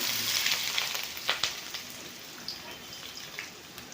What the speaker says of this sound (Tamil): நல்லா வெங்காயம் பொன்னிறம் ஆகிற வரைக்கும் நம்ம வதக்கலாம்